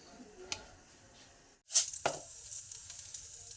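Fenugreek seeds hit hot oil in a pan while a fish curry with tomato is being started. A sudden loud burst of sizzling fades into a steady, crackling hiss, and a faint clink comes before it.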